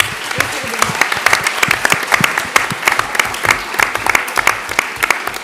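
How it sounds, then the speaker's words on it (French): A room of people applauds young climate activists at a conference, with loud, close, uneven clapping and sharp individual claps punching through a busy crowd wash for several seconds. "on va applaudir tous ces jeunes qui sont dans cette salle"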